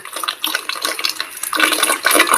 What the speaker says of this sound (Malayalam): ഇതാ വെള്ളം വരുന്നുണ്ട് ക്യാനിലേക്ക്